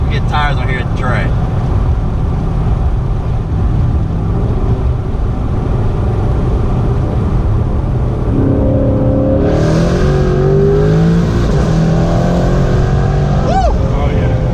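A 2017 Ford Mustang GT fitted with a Roush Phase 2 supercharger roars loudly as it accelerates hard, a dense steady engine rumble that climbs in pitch in the second half, with excited voices shouting over it.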